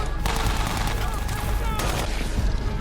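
Gunfire in an episode of The Walking Dead TV series: a dense, continuous barrage of shots at a steady loud level with a few sharper cracks standing out, with no clear pauses between them.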